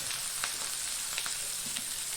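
Fish fries in oil with curry leaves in a pan, giving a continuous moderate crackling sizzle with small pops and spits throughout, no voices.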